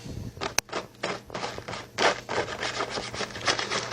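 Residue is scraped off a surface in short, uneven rasping strokes, close and fairly quiet, with one sharp tap early on.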